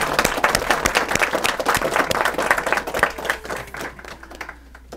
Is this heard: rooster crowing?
no